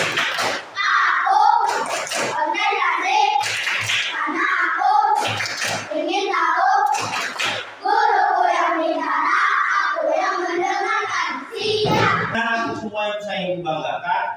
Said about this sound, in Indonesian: mau tepuk fokus dulu supaya kita konsentrasi dalam menerima pembelajaran hari ini